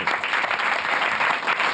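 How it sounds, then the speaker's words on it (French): An audience at a comedy show applauds again, a continuous even patter of many hands at moderate loudness throughout, without a break. "Et je vous demande de l'applaudir encore une fois."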